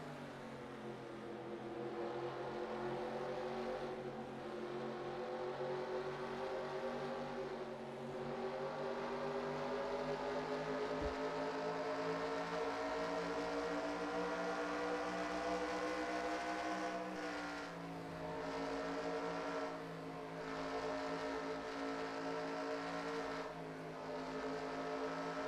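The engine of the No. 59 race car drones through an onboard video-game lap at Twin Ring Motegi. The whine is loud and sustained, rising and falling in pitch with throttle changes, with no talk over it.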